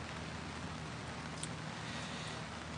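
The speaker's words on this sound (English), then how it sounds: "I recognize that it's raining" Steady outdoor rain hisses evenly and continuously, a dense wash of falling drops with no voices and no breaks.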